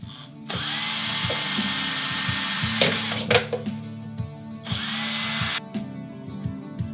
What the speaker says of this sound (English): So we'll drill some holes in the base.